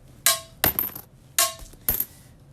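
A few pennies dropping onto the ground, four separate bright metallic clinks with short rattling and rolling tails, close by and alone.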